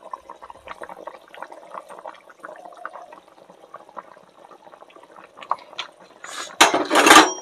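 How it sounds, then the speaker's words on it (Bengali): A tilapia fish curry with potatoes and eggplant is stirred in a pot after turmeric goes in, with soft scraping and bubbling liquid throughout, then a louder clattering surge at the end. "হলুদটা দিয়ে এবার হালকা করে নেড়ে নেব।"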